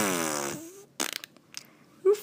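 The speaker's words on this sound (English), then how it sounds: "It's a Whoopee cushion." A whoopee cushion lets out a long, buzzy fart noise that sags in pitch, followed by a few scattered short sounds and a brief voiced exclamation at the end, in a classroom.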